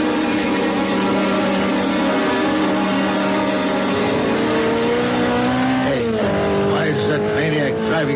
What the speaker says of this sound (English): The sports car looked like a Simonetti. I couldn't tell. Went by me too fast.